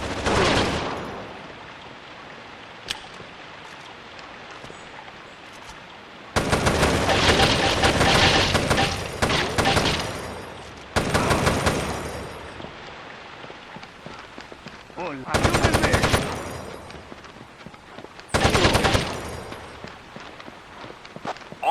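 Bursts of automatic gunfire in the Rainbow Six 3 tactical shooter on PS2 come in several loud, dense volleys separated by quieter stretches, with game voices and radio chatter in between.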